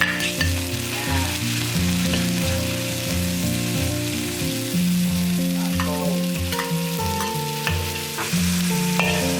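Pork and garlic stir-frying in oil for Indonesian bakmi goreng: a loud, continuous crackling sizzle with repeated metallic clanks and scrapes of a spatula against the wok, close up and without voices.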